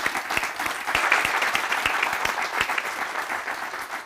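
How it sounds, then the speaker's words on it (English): A room full of people at a charity's annual general meeting claps steadily in a sustained round of applause, dense and even for the whole stretch with no voices on top. "I would ask if we just put our hands together as a round of applause for Stephen and his contribution"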